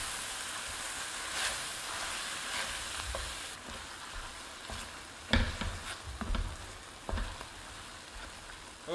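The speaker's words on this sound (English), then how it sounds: "Now we're gonna let this mixture cook all together, get all nice like" A pepper mixture sizzles steadily in a pan, a continuous bright hiss with occasional louder spatters and stirring scrapes, heard close with no talk.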